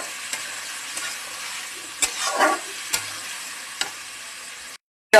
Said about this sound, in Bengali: এবারে আমি মাছটাকে ঢেলে দেবো।